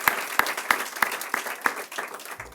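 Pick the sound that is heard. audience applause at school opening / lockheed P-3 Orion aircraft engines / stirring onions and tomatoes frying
audience applause at school opening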